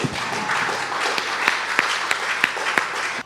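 Church congregation applauding and acclaiming the Lord during a sermon, a steady wash of clapping with a few sharper claps standing out, moderately loud.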